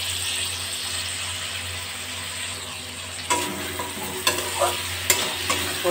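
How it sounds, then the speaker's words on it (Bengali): Fried pointed gourd being stirred into spice paste that is frying in oil over a low flame. A steady hiss gives way to clattering scrapes and knocks of a spoon in the pan. "মশলা ভাজা হয়ে গেছে, তেল বেরিয়ে গেছে। এবার আমি ভাজা পটলগুলো দিয়ে দিলাম।"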